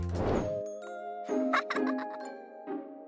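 A short bright bell jingle plays as a sound effect, a few tinkling ding tones ringing out and fading after a brief burst of sound, with no speech.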